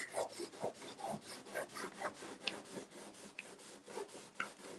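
Nails dragged and rubbed across a wooden cutting board sign to distress it, a close, steady series of scratchy rasping strokes in an irregular rhythm with no talking.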